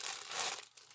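A brief burst of crinkling as a parcel from an AliExpress seller is opened, close and fairly loud, fading after half a second.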